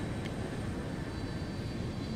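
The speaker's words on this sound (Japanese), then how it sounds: "飛行機。" Airplane engine in Metal Gear Solid 4, a steady broadband roar filling the whole moment at an even level with no breaks, like the inside of a cabin in flight.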